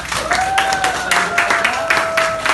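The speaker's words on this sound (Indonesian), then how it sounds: "Tepuk tangan buat kalian semuanya." A classroom of students claps together for a couple of seconds, a lively, fairly loud burst of applause with a thin tone running beneath it.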